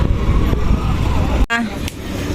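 Busy market-day street traffic with a steady rumble of passing cars and buses, a short horn toot partway through, and people talking nearby over the road noise.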